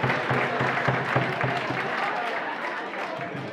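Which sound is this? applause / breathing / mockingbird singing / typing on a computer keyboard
applause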